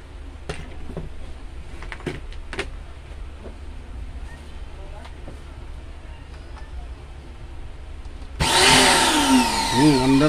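A repaired Kawasaki HPB302 power tool with a no-power fault starts abruptly near the end, giving a loud, harsh motor whine that rises in pitch over scattered handling clicks and talk.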